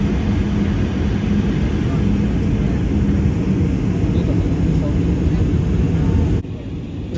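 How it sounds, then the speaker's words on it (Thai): Steady, loud cabin drone of an airliner cruising on a flight from London Luton to Edinburgh, a constant broadband rumble that drops slightly near the end. "ครื่องบินก็ได้บินขึ้นมาสูงใน ระดับหนึ่งแล้วนะจ๊ะ"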